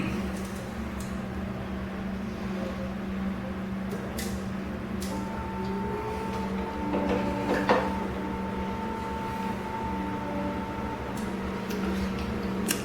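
A Promax panoramic X-ray unit runs its self-test with a steady low electrical hum throughout. A faint sustained tone rises midway, and a few soft clicks come and go, with no talking.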